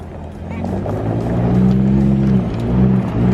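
Ford Raptor trucks power drifting on the dirt course at the Dirtfish facility, with a continuous loud engine roar that rises and falls as they slide, people talking over it.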